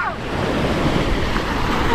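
Sea waves at Es Canar beach in Spain, a steady wash of surf with wind noise buffeting the microphone, no voices.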